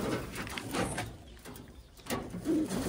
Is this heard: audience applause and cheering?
no